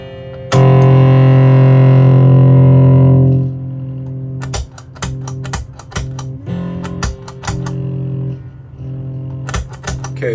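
Guitar chord sustained and frozen by a 1974 Electro-Harmonix SCRAPfinger effect, a loud droning hold that cuts off abruptly, followed by sharp clicky choppy strikes with a distorted edge.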